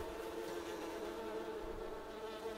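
Bees buzzing in the farming game Farming Simulator 19, a steady continuous insect drone at an even, fairly quiet level with no breaks and no talking.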